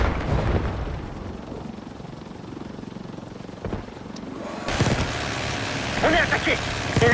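A helicopter in the Black Ops 6 campaign, a loud droning rotor rumble that swells and grows stronger toward the end amid a noisy combat background.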